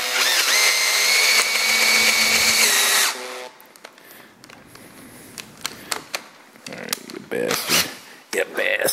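A power drill drilling into metal whines steadily for a few seconds, then stops, followed by clattering, scraping handling noises and a few brief bursts of activity.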